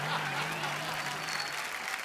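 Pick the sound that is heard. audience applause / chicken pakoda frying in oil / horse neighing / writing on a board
audience applause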